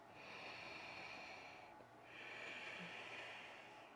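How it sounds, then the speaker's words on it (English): Ujjayi yoga breathing through the nose with a slight constriction in the throat, two long slow airy breaths separated by a short pause, close and soft, with no talking. "Start connecting to your Ujjayi breathing, so slight constriction in the back of the throat, closing the mouth, breathing only through the nose."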